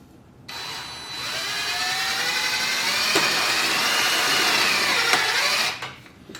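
Outdoor deck screw being driven into wood by a power driver, a loud steady whirring grind lasting about five seconds with rising tone, then stopping abruptly.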